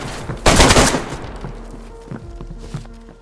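Loud burst of video game gunfire heard up close, with a dense volley of shots in the first second, then tapering into scattered thumps and quieter game sounds.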